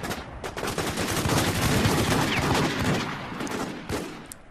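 Rapid gunfire from the online shooter War Inc. Battlezone, dense overlapping shots and bursts that run continuously and loudly through the whole stretch.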